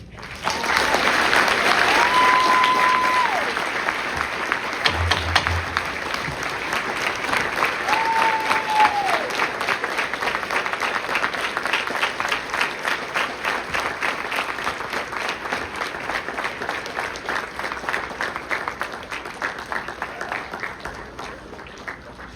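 An audience at a high school hall of fame award ceremony applauds warmly and at length, a sustained wash of clapping that slowly eases without stopping.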